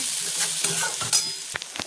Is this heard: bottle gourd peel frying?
yes